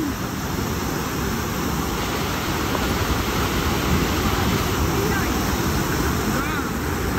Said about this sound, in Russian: Вода льется.